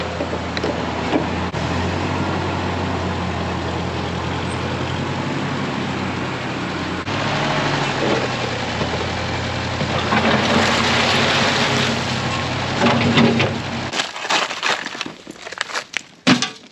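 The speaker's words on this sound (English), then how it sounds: "I hope the tractor will pick that up." A tractor engine runs steadily for most of the stretch, a broad continuous rumble on a farm during squeeze chute teardown work, then it cuts off abruptly near the end, leaving only scattered clunks.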